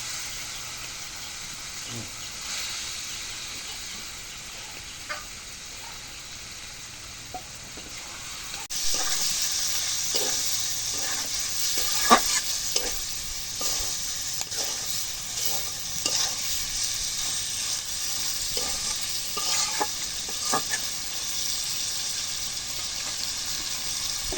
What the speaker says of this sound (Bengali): এখন মশলাগুলো কষানো হবে তখন ভুড়িগুলো দিয়ে দিই